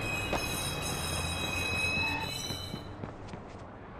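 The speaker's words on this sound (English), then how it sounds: "Southbound train arriving shortly." A train pulls into a station in the video game GTA V with a rumbling roll and high squealing wheels, loud and close, easing off toward the end.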